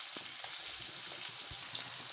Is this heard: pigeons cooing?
no